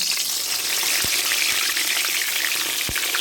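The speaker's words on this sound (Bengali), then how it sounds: "কড়ায় সর্ষের তেল গরম করে বেগুনগুলো ভেজে নেব" Brinjal (eggplant) slices fry in hot mustard oil in a wok, a loud, steady close sizzle with a few sharp spatula taps, no voices.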